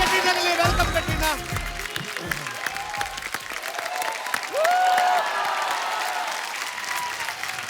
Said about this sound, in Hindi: जोरदार तालियां कैटरीना के लिए।